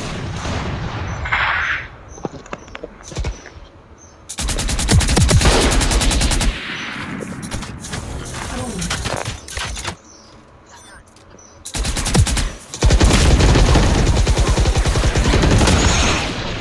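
Sniper shots and rapid automatic gunfire burst in loud, dense volleys separated by quieter gaps during a Valorant Mobile match, with a player's voice talking at times.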